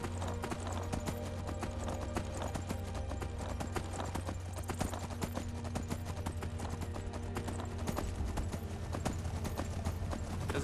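Hooves of Shadowmere, the demon horse in the video game Skyrim, clip-clop steadily over a dense bed of game music and ambience. The fast, even footfalls run throughout at moderate level, with a brief horse whinny.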